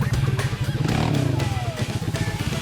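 A mountain motorcycle engine chugs and putters close by with a rhythmic low throb, the revs briefly climbing before settling back.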